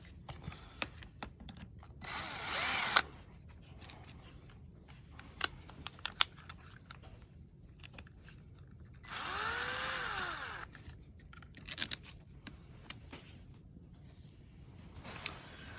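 A power drill removes screws from a Frontier during a repair, with two separate whirring bursts of a few seconds each, close by, and scattered small clicks and handling noises between them.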